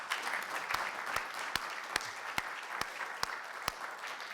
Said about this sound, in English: How about a round of applause for our chancellor?